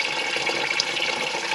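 Water draining out of a 1945 Caterpillar D4 dozer into a bucket, a steady close splashing pour that runs evenly throughout with no voices.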